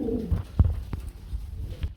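Pigeons coo softly nearby in a few low, throaty bursts, with no talking.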